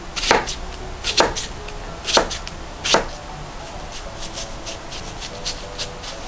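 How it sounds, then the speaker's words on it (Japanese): A knife mincing apple on a cutting board, with four distinct, evenly spaced chops up close followed by lighter, quicker cuts and soft scraping, and no talk. "切っていくんですけども、みじん切りにしていくんですよ、これね"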